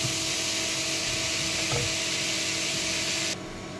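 Mixed winter vegetables, already boiled, stirred in a cooking pot with the lid lifted in a village kitchen; a continuous hissing, rubbing scrape with one brief louder scrape midway, cutting off abruptly near the end.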